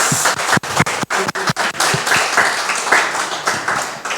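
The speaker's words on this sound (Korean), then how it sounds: "감사의 박수 한번 치겠습니다." Church congregation applauding together in thanks at the close of a seminar, a dense, lively patter of many hands with a few sharp individual claps standing out.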